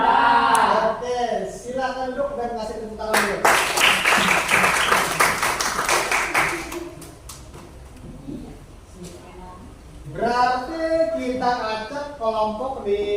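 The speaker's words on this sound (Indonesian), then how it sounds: "silakan duduk dan kasih tepuk tangan dulu" Students in a classroom give a round of hand clapping, a dense burst of applause lasting several seconds, with talking before and after.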